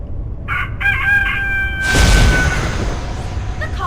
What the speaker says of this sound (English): take that animal wheel that I set to Rooster and fly outside by the window and play that sound